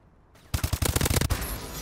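Gunfire in Call of Duty: Advanced Warfare on the Recovery map, a sudden close burst of rapid automatic shots lasting under a second, then a short fading tail.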